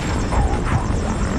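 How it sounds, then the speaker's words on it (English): Low throbbing rotor hum of a helicopter landing in a military stealth game, a steady pulsing drone over the short stretch with no talk. "There's a chopper landing."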